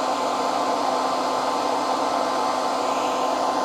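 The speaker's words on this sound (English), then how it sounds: "I know there's a lot of noise right now from the blow dryer" A blow dryer roars steadily at close range, a constant loud rushing whoosh with a faint hum, heating shrink wrap on a golf shaft.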